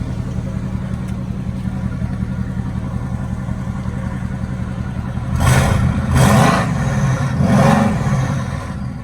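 A 2016 Mercedes GT bi-turbo with 503 horsepower idles with a steady low rumble, then revs three times in quick succession, each blip rising loudly and falling back to idle.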